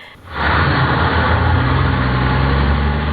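Heavy truck traffic on a street in the Maribyrnong area, heard as a loud, steady low engine rumble and drone that builds in quickly and holds close by.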